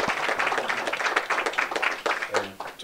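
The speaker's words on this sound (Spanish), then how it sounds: "Vamos a darles un aplauso a todo el mundo." Audience applause at a California State Assembly District 37 candidate forum, steady mid-level clapping filling the whole stretch with a brief voice near the end.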